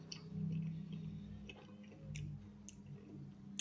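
Someone chews a Fame MMA snack bar close up, with soft, moist squishing and crunching bites that come and go.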